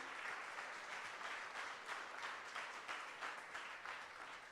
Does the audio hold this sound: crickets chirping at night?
no